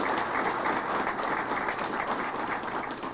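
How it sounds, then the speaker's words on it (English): Sustained audience applause at a press conference honoring a Rochester police officer, dense steady clapping throughout at moderate level with no speech. "You can applaud for that."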